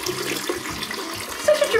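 Four cups of cold water from the fridge pour and splash steadily into a container for about two seconds, sounding close and fairly loud with no voices.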